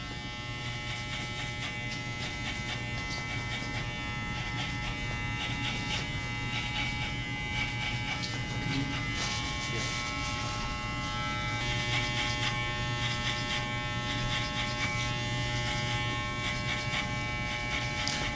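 Electric hair clippers set to a number 1 clip with the gauge extended to 1.5 buzz steadily through an Afro-centric haircut, a close, continuous motor drone with no talk over it.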